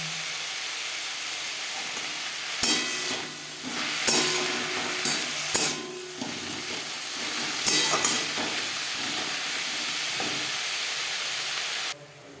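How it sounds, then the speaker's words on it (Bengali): Cauliflower leaves fry lightly in a pan with salt, giving a steady hiss and sizzle broken by several sharp scrapes and clatters of a spatula, close and loud until the sound cuts off abruptly at the end. "পাতা আমি হালকা করে ভেজে নেব"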